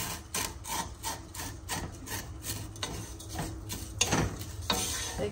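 Dry vermicelli (semai) being broken into small pieces in a pan, giving close, quiet crackling and rubbing scrapes in a rapid irregular rhythm.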